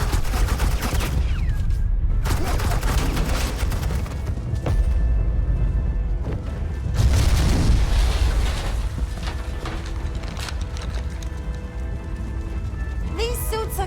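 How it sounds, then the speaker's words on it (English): Sustained volleys of suppressing gunfire in the video game Batman: The Enemy Within, dense crackling bursts continuing throughout at steady loudness, with some voice-like sound mixed into the background. "suppressing fire"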